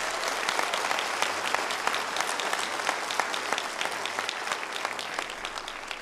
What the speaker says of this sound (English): So can you all give yourselves a big round of applause?